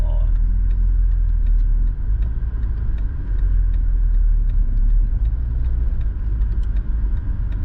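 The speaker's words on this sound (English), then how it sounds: "The engine, I mean, even though it's not running at optimum operating temperature, but you know, it revs so smoothly" A BMW E32 engine, not yet at operating temperature, hums and rumbles steadily up close, revving smoothly inside the cabin with faint ticking over the low drone.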